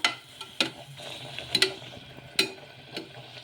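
Puri frying in hot oil, an irregular series of sharp crackling spits and pops, close and fairly quiet, scattered across a few seconds with no talking.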